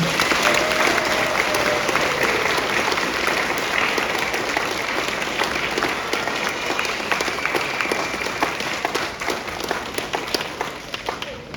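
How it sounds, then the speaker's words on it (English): Loud, sustained applause fills a 6th grade promotion ceremony at an elementary school, a crowd of many hands clapping steadily and densely for over ten seconds without a break, with faint voices underneath. "Everyone, please give a warm round of applause for my student of the year"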